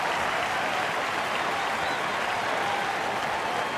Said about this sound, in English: That'll get him a round of applause.